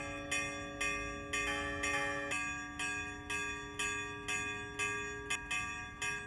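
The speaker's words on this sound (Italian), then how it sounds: "Si è impallata la campana?" A bell tolls in slow, regular strokes about every half second, each ringing out and decaying into the next, loud and clear with no voices.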